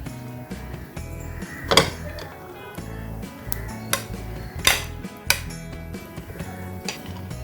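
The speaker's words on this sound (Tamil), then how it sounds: "டேட்ஸை எல்லா நட்ஸோட ஒன்று சேர்ந்து வர மாதிரி நல்லா மிக்ஸ் பண்ணி விடுங்க." Blended dates being mixed with ghee-fried nuts in a pan, with repeated scraping and clinking of a spoon against metal, sharp knocks at irregular moments over a low rumble.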